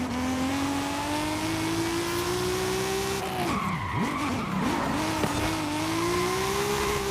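A compact race car in Forza Horizon 5 roars at high revs with a steady engine whine, then its pitch dips and wobbles as the tires squeal and skid through a corner before it accelerates again, loud and continuous.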